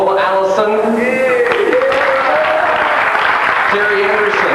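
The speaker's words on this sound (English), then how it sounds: "stand up, get your rightful round of applause" Revue audience applauds a named participant as she stands, a burst of clapping heard beneath a voice talking, with tonal background sounds mixed in throughout.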